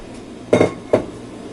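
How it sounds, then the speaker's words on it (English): A bowl is set down and slid on a kitchen counter during salmon and crab cooking prep, giving two distinct knocks, near and moderately loud, with a quiet room between them. "I'm going to bring my other bowl just off shot"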